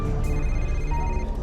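A telephone rings steadily and loudly on a reality dating show, a continuous electronic trill that fills the whole short moment with no talking over it.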